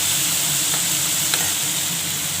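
Food frying in a pan while being stirred, with steady loud sizzling hiss and a couple of faint scraping knocks, close by and without talk.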